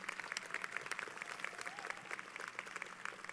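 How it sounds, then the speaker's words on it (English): Graduation audience at a Clements High School ceremony applauding the faculty and staff, a dense wash of many hands clapping at a moderate distance, steady throughout with a faint voice underneath. "Let's give a big round of applause to the faculty and staff of Clements High School."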